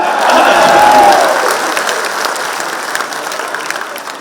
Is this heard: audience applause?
yes